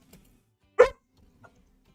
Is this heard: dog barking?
yes